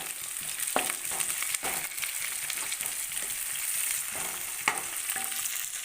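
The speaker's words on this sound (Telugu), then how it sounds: "కరివేపాకు వేసాం, అంటే కాసేపు వేగనిద్దాం" Onions, green chillies and curry leaves fry in a pan with a continuous close sizzle, punctuated by a few sharp knocks and scrapes of a spoon against the pan.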